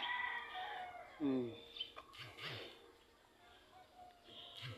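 Chickens cluck and call intermittently at moderate distance in a garden, with a short louder squawk among quieter outdoor background noise.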